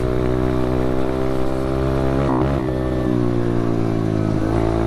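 An SSR pit bike engine revs hard near the rev limiter, giving a loud, close, buzzing drone with brief stuttering cuts and dips in pitch midway before settling back to a steady high rev.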